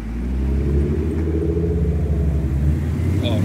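A BMW car passing close by on a street, a loud continuous low engine rumble that swells and holds steady, with no talk over it.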